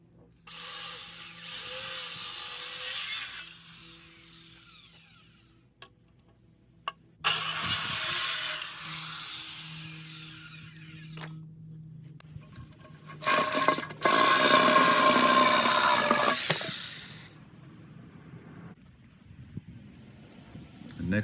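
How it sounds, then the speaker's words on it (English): A circular saw cuts around a rotted wooden fence post for a three-rail fence in three loud, rasping bursts of a few seconds each, separated by quieter pauses with faint handling noise. "basically cut it all the way around with a circular saw"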